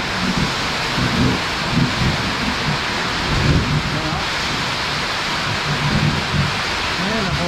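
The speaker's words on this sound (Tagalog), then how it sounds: "Nakakagulat yung mga kulog eh." Heavy rain pours steadily and loudly throughout, with low rolling thunder rumbling repeatedly underneath during a rural storm.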